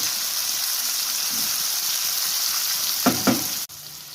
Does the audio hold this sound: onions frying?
yes